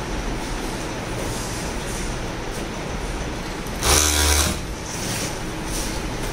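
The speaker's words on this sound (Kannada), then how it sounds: "ಇಲ್ಲೆಲ್ಲ ಸ್ಟಿಚಿಂಗ್ ಮಾಡ್ತಾ ಇದ್ದಾರೆ" Sewing machines stitch leggings in a garment factory, a loud continuous mechanical whir filling the room, with a brief sharper burst of machine noise partway through.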